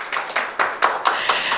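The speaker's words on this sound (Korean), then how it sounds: "큰 박수 부탁드립니다." An audience at a Korean Go anniversary panel event applauds with a thin scattering of distinct, separate hand claps, close and moderately loud, tapering off quickly.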